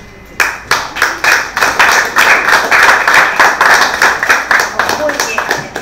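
An audience applauds at a 2015 regional final in Guna Yala, Panama: loud, close clapping that starts sharply and continues as a dense, even patter for several seconds.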